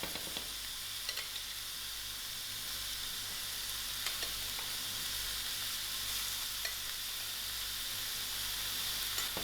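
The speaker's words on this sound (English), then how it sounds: "Gradually, I'm going to add in my mince, which is going to also release" Lamb mince sizzles steadily in a frying pan, a dense continuous crackle and hiss heard up close, with occasional louder pops and spatters and no voices over it.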